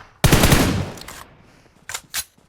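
A burst of rapid automatic gunfire in the video game PUBG Mobile, loud and close, followed by two short separate shots after a brief pause, with no speech.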